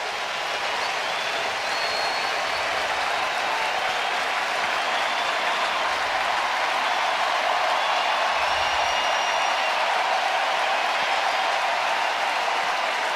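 A baseball stadium crowd rises and cheers as a run finally scores, a broad sustained roar of applause and cheering that holds loud and steady throughout.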